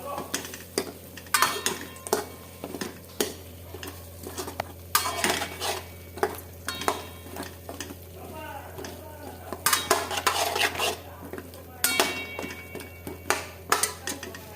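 Green bean pods are stirred into masala in a pan with a metal spoon, giving repeated close scraping clinks against the pan over a soft sizzle, in irregular bursts.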